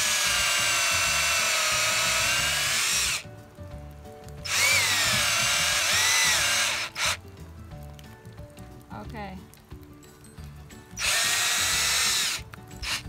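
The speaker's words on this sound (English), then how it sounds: "Okay, here we go with the drilling." A power drill bores a tap hole into a maple tree, its steady whine running in three long loud bursts with quieter gaps of handling noise between them.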